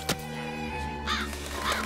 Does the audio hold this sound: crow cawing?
yes